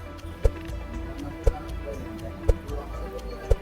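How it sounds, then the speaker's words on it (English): A quiz show countdown timer ticks steadily, one sharp click per second, four ticks in a row, crisp and prominent over a low background hum. "You still have 10 seconds left on the clock."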